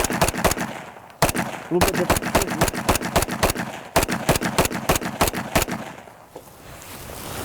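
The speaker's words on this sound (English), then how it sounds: "the gun can obviously shoot just as fast as that other gun we were just shooting" Rapid rifle gunfire from an assault-style rifle, a dense burst of sharp, loud shots in fast succession with a brief pause, then more quick shots; a voice speaks briefly between bursts.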